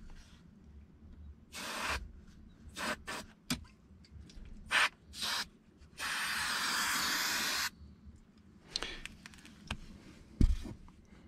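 Several short bursts and one sustained hiss of an aerosol adhesive spray on the bottom section of a Toyota 4Runner rear seat during upholstery work, close and moderately loud, separated by quiet handling noises.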